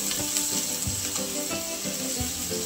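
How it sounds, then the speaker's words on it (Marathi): Onion sautéing in a pan with green chillies and curry leaves, a continuous close sizzle with occasional scrapes and stirring clicks, no voices. "त्यानंतर कढीपत्ता टाकायचा आहे, मिक्स करून आता परतून घ्यायचं"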